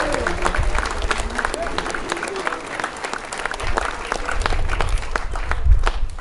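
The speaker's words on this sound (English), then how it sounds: "So a big round of applause to everybody I just mentioned." A theatre audience at a magic show gives a sustained round of applause, dense clapping and crowd noise filling the room steadily throughout.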